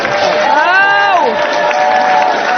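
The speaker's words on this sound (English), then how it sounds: "The crowd here becoming unglued." A wrestling arena crowd at a British cruiserweight title match roars wildly, a loud sustained wall of cheering with whoops and a rising-and-falling chant-like cry through it.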